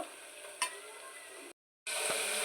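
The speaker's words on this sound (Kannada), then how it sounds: "ಇದು ಸ್ವಲ್ಪ ಗೋಲ್ಡನ್ ಬ್ರೌನ್ ಬರೋ ತನಕ ಚೆನ್ನಾಗಿ ಬೇಯಿಸ್ಕೊಬೇಕು" Onions salted and cooking toward golden brown in a pan give a steady, close sizzle with a brief scrape of stirring near the start, broken by a short gap of silence before the frying hiss resumes.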